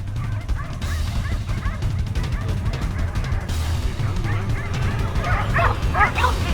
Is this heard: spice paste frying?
no